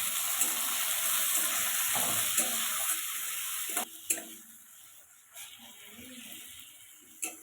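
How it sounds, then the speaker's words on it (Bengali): Chopped tomato and salt being stirred in a pan while cooking for a mango tilapia curry, giving a steady soft sizzle with scattered scraping and clinking of the spoon against the pan. "এবারে টমেটো নরম হওয়া পর্যন্ত একটু নাড়াচাড়া করে নেব"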